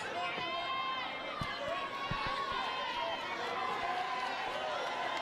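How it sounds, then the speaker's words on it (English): A wrestling crowd at a Beaumont show cheers in a steady, distant roar of voices, fairly faint throughout, with a commentator talking over it. "You hear it from the crowd at Beaumont"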